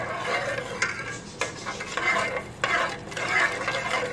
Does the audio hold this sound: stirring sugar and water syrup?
yes